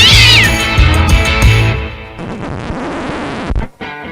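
A cat meows loudly as a sound effect. The drawn-out, wavering cry is followed by distorted, processed noise in a podcast setting.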